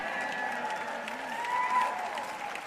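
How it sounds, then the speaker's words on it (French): Church audience applauding at an evening French-language sermon, a steady dense wash of many hands clapping throughout, with a faint crowd murmur beneath and a slight swell near the end. "Eh bien, vous n'applaudissez pas pour ça aussi fort que vous le devriez."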